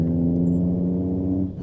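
Volvo truck in a Euro Truck Simulator 2 sound mod keeps up a loud, steady low engine drone while braking from a high gear. The drone drops off sharply near the end.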